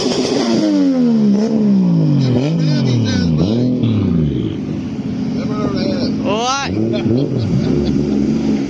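A car engine revs loudly and repeatedly at a car meet in Portrush, rising and falling through several sweeps, while voices talk nearby.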